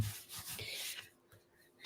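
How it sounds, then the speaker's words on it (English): Excess cardstock trimmed off an embossed card with a paper trimmer, a soft close rubbing and slicing sound that runs for about a second, then fades to quiet before a brief scrape at the end. "I'm going to trim off some excess here"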